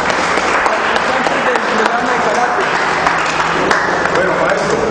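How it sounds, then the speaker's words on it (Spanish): A group claps to welcome karate students at a dojo, steady close applause mixed with crowd noise and some voices talking underneath. "Un aplauso y bienvenidos para todos"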